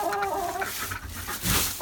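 Chickens cluck in a backyard coop, a close, busy murmur of overlapping clucks and squawks with a louder burst near the end.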